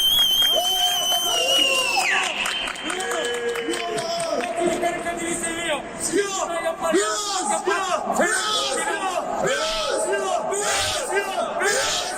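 Crowd applauding and cheering at a lively gathering, with whoops and shouts over continuous clapping, while voices call out throughout.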